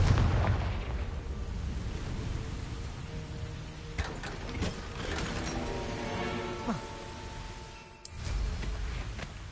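Bombarda and Confringo explosion spells in Hogwarts Legacy on PS5, a continuous rumbling blast texture with several sharp pops and crackling bursts scattered through, a deep boom near the end.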